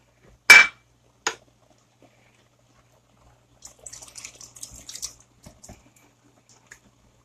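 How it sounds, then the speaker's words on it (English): Canned diced tomatoes drop into a pot of brisket chili: two sharp metallic clinks from the can, then a soft, brief wet splatter and squelch, close and quiet. "And let me add my diced tomatoes."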